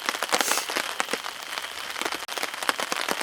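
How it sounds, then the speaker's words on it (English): Steady patter of rain drumming on a taut tent roof overhead in the Boundary Waters in spring, dense and continuous with occasional louder drips, close by. "I'm just waiting for the rhythm of the falling rain."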